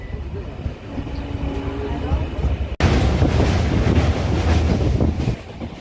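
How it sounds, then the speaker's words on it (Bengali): A train heading toward Siliguri Junction on the Dooars route rumbles along while wind buffets the microphone; the clatter and rush grow suddenly louder partway through. "ট্রেনটি এলো এবং এখন শিলিগুড়ি জংশনের পথে আমরা অ্যাপ্রোচ করছি"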